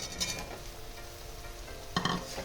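Boiled, salted soybean chunks drop into hot oil and spices in a pan, giving a brief burst of sizzle and clatter near the start and again near the end, with steady frying crackle in between and no talk.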